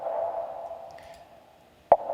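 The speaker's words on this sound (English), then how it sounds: "So this rim high track sounds like this." A high rim percussion track from a music production session, shaped by a bandpass EQ and gated with the Gatekeeper plugin: a sustained, whistly midrange tone that fades, then a single sharp, loud gated hit near the end.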